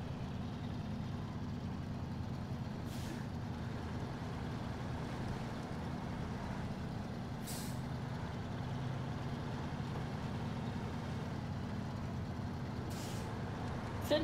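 Truck engine idling steadily in the video game Snowrunner in Alaska, a low continuous drone broken by three brief hissing air brake releases spaced several seconds apart, moderate and even throughout.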